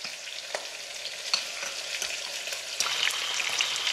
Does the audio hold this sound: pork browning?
yes